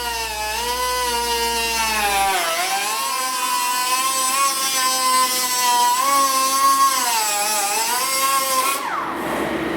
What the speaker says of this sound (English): You can use a cut-off saw to make the cut.